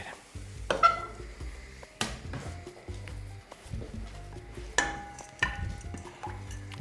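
A crepe fries in a pan with a soft sizzle broken by several sharp clatters and scrapes of the pan and utensil, quiet between the louder knocks.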